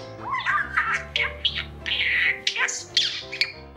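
A pet parakeet squawks and chirps loudly nearby in a rapid string of harsh, varied calls and whistles with brief gaps between bursts, alone without speech.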